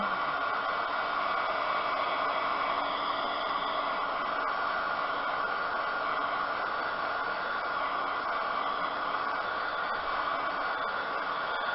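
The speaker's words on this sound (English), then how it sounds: "my heat dryer, my heat gun dryer." A hot-air tool blows with a constant, loud whooshing roar, close to the microphone, with no talking.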